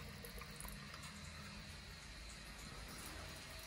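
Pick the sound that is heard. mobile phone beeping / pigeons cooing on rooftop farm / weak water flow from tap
weak water flow from tap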